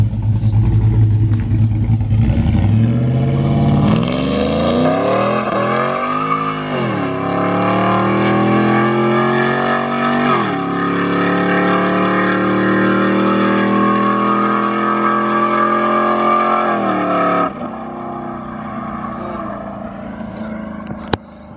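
A car launches hard during a Dragy acceleration run, its engine roaring loud and close as it climbs through several gears, each shift pitching the revs down before they rise again, then it backs off.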